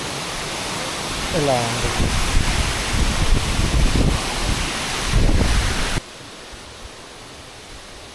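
Rana Jilleda Waterfalls near Araku pours down in a constant, close, full-bodied roar mixed with wind buffeting on the microphone. A voice speaks briefly over it, and the rush drops to a quieter level near the end.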